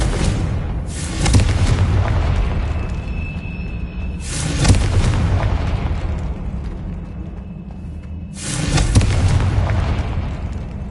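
Confringo blast spell in the Hogwarts Legacy game: three loud, booming explosions spaced several seconds apart, each with a sharp burst and a long rumbling tail, with no talking.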